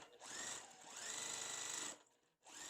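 A sewing machine stitches quilt fabric pieces together in two steady runs of even, rapid mechanical whirring with a brief pause between them, close and alone.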